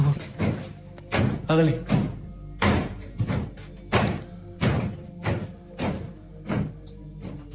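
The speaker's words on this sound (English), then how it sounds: "Banging on the roof." Repeated heavy banging thuds on a roof overhead, a dozen or so dull knocks in an uneven rhythm, fairly loud against a quiet background.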